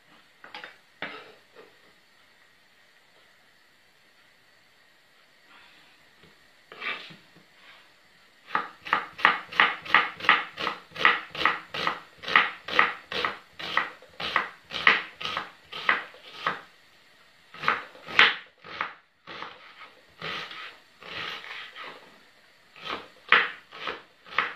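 Knife chopping vegetables for homemade chicken noodle borș on a wooden cutting board, after a quieter start: a long run of steady, rhythmic close knocks with brief pauses, no talking.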